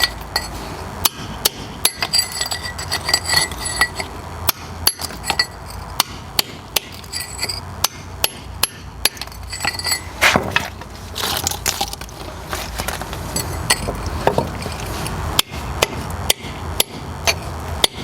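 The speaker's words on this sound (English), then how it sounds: "we're gonna have to chisel out everything because it's not budging" Hammer and chisel knock out old mortar beneath a loose bluestone step, a long run of sharp, irregular metallic strikes at close range with scraping and crunching between blows.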